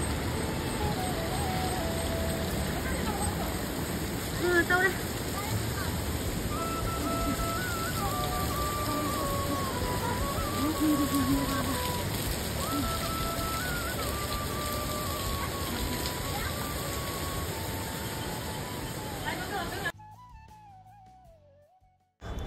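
Water at Sahastradhara in Dehradun, Uttarakhand, rushes and splashes in a steady broadband roar, with a faint melodic tune drifting over it before the sound cuts off near the end.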